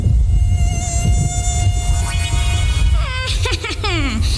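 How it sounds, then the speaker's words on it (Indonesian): A cartoon mosquito buzzes steadily and loudly, a thin whining drone that wavers and bends in pitch toward the end, with a busy low rumble underneath. "Kenalkan, aku nyamuk garong, suka darah manusia."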